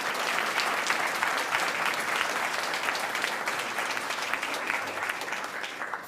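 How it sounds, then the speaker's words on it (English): Sustained audience applause at a spring town hall event, many hands clapping steadily and evenly, moderately loud and heard alone without speech. "So can we give them a round of applause?"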